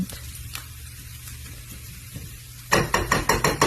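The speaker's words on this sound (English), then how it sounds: "you're going to saute the onions and the garlic in the oil" Onions and garlic sautéing in oil over medium-high heat, a steady low sizzle that turns into a run of sharp, rhythmic spatula clacks against the pan near the end, close and without talk.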